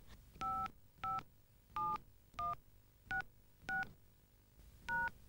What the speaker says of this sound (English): add the phone number with the area code after the diversion code